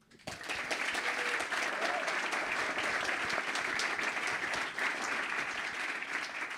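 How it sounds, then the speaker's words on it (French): Loud, sustained applause from a large keynote audience at Google France, a dense wall of clapping that starts abruptly and holds steady throughout without fading. "Je vous demande de faire un tonnerre d'applaudissements pour Arnaud de Google."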